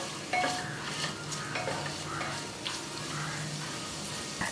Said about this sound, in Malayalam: പച്ചമുളകും സവാളയും ചേർത്തിട്ട് വീണ്ടും നല്ലപോലെ വഴറ്റി കൊടുക്കണം